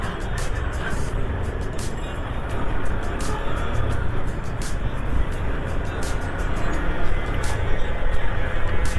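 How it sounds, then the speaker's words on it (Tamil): Heavy road traffic on Athirampattinam road: a continuous loud rumble of cars, buses and trucks passing close by, with rhythmic high ticking and a hiss like air brakes running over it. "டிராஃபிக் செம்ம டிராஃபிக்"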